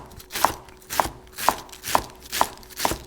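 A knife cuts through stacked, halved Napa cabbage leaves on a board, six crisp, evenly spaced chops about half a second apart, close and clear with no talking.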